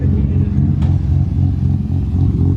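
A Nissan S13 coupe backs into a garage, its engine a steady, loud low rumble throughout with slight revving fluctuation and a brief clatter partway through.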